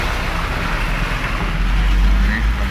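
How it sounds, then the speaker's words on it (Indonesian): Heavy Fuso trucks roll past on a rain-soaked road, giving a continuous deep rumble and low engine drone with wind noise, steady and fairly loud throughout. "Mobil-mobil besar, mobil-mobil Puso udah mulai melintas."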